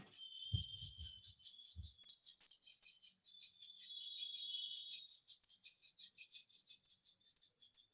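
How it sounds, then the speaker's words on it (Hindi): Two palms rub briskly together in a quiet room, a soft, close, rhythmic swishing that repeats in fast strokes for several seconds after a couple of light touches. "अपने दोनों हाथों की हथेलियों को रब करें।"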